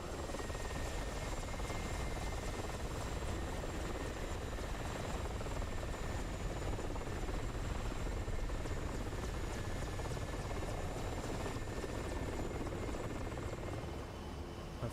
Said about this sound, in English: looks like we got some helicopters there as well